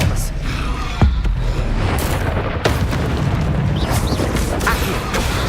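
A spell cast in the video game Hogwarts Legacy lands as a loud, booming burst near the start, followed by further rumbling blasts and dense game effects filling the whole stretch.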